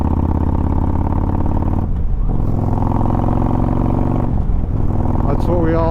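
A Harley-Davidson motorcycle ridden in normal ride mode, its engine a loud, close, thumping drone with harmonic layers that dip twice as gears shift before rising again.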